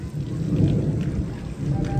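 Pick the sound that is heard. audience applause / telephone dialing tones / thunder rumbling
thunder rumbling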